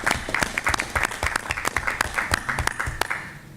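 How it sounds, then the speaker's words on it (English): Applause at a Board of Education meeting honoring a swim team, a modest group clapping with individual claps audible in an uneven rhythm, close and fairly loud, fading slightly at the end. "So I think a round of applause for those who are here for them is appropriate"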